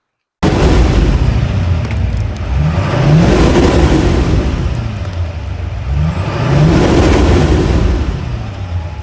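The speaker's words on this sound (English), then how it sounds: "You can really hear that turbo even with the factory exhaust" A 2026 GMC Denali 2500 turbo engine on factory exhaust revs loudly and close by in two long swells, each rising then settling back to a heavy idle, with no talking.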